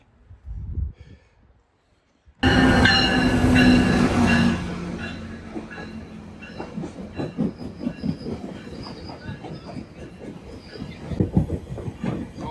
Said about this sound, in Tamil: இந்த இடத்துலேருந்து ட்ரெயினில் போக போகிறோம். இங்கே ரயில்வே ட்ராக் இருக்கு.